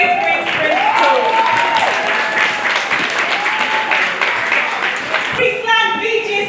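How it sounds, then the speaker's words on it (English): An audience at a school challenge finale at the University of Lagos, Akoka, claps steadily and loudly throughout, while a voice talks over the continuous applause. "Please don't stop clapping, don't stop clapping"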